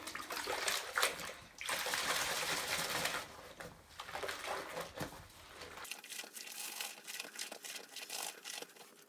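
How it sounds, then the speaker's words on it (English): A mop is rinsed in a bucket of hot water with Dawn dish soap, sloshing and splashing loudly up close in bursts, then shifting to a thinner dripping, trickling wash with no talk. "Let's rinse our mop."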